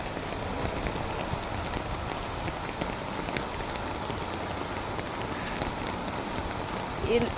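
Heavy rain driven by gusting wind falls in a dense, steady roar close by, pattering hard on surfaces without a break for the whole stretch.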